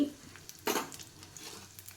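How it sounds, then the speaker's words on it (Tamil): Almonds and dried coconut sauté in ghee in a pan. A faint, low sizzle sits under one clear stirring scrape early on, followed by lighter spoon movements. "நெய்யில் வதக்கிக்கிறோம்"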